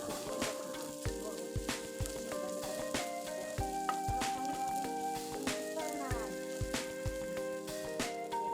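Onions fry in a pan for egg chowmein, a soft steady sizzle with recurring stirring scrapes and clinks, close but fairly quiet, with faint background sounds.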